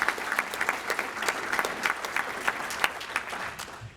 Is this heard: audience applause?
yes